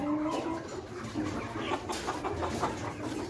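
Chickens cluck repeatedly in a busy, noisy setting, several birds close together with a steady background murmur.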